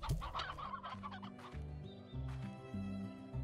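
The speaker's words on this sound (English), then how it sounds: "Why do I have chickens here?" Chickens cluck and squawk in the game Slime Rancher, several close calls in quick succession over a steady backing of game music.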